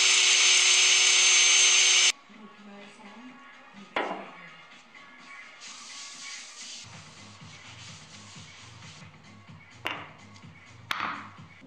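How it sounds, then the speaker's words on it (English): A wooden basketball sculpture being sanded back: a loud, steady, close hiss for about two seconds, then near quiet with a few light knocks and taps. "I am going to sand this back again and put some more stain on it"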